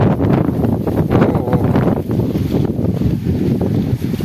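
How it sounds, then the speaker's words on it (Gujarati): A strong storm wind blows hard and without a break, a dense, roaring rush that buffets the microphone at full volume with no gaps. "હાલો, ખૂબ પવન છે."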